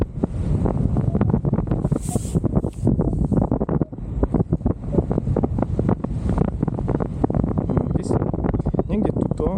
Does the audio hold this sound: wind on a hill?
yes